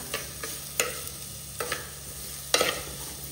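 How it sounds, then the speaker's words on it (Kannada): Chopped onions and curry leaves frying in a clay pot: a steady sizzle broken by several scraping stir strokes, some sharper than others, heard close up and with no voices. "ಸ್ವಲ್ಪ ಕರಿಬೇವು ಕೂಡ ಹಾಕೊಂಡು ಈರುಳ್ಳಿ ಒಳ್ಳೆ ಫ್ರೈ ಆಗಬೇಕು"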